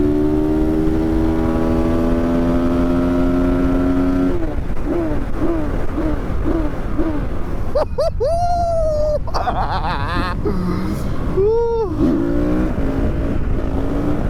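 A road-legal Honda CRF 450 supermoto shifts gears without the clutch: a steady engine drone gives way to a quick run of upshifts, each with a brief pitch drop, followed by sharp rising revs, all loud and close.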